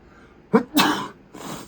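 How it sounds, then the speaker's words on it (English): A single loud sneeze close up, a sharp inhale burst followed by a breathy release and a softer exhale after. "Sneeze."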